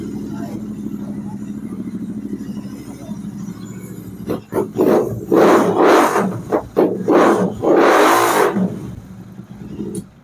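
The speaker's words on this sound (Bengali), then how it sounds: "এটার মধ্যে রেড রোস্টার লাগা আছে। গাড়ির সাউন্ড শুনবে একবার," A Royal Enfield GT 650 motorcycle fitted with a Red Rooster exhaust idles with a low steady rumble, then is revved hard in a series of loud, close blips and roars.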